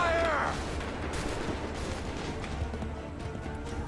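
A musket volley in Assassin's Creed III battle: a dense rumbling burst of gunfire at the start, followed by a sustained low battlefield roar with scattered distant shots and faint voices.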